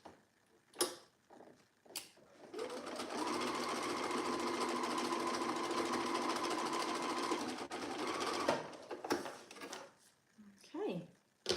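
A sewing machine stitches a seam on an Amelia jacket in one steady whirring run of about six seconds, close and loud, framed by clicks and handling sounds with brief talk before and after.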